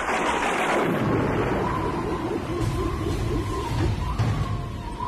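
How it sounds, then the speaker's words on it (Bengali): A cartoon thunderstorm rolls in as a long, loud rumble of thunder over heavy rain. The roar swells at the start and stays close and dense throughout. "এ তো দেখতে দেখতে আকাশ কালো করে ঝড় চলে আসলো"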